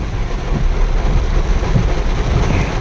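Loud, steady downpour of heavy rain outside a government office in Khanna, Punjab, a dense unbroken roar close by with no voices.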